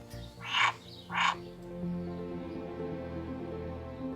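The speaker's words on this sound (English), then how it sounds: "I don't know if you can hear this, but there's our wildlife pond and our 4 frogs." Frogs in a garden wildlife pond give two loud, close croaks about half a second apart, followed by a steady low hum of background sound.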